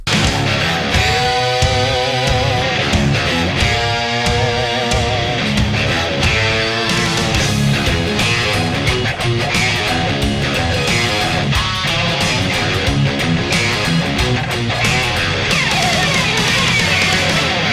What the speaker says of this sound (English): we have our post solo riff, which sounds like this